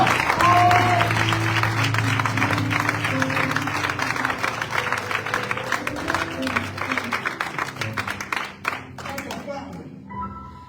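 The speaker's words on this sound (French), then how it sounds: "C'est comme ça que tu acclames papa." A church congregation claps and cheers loudly and steadily at a divine-healing service, the sustained applause thinning toward the end as scattered claps and voices remain.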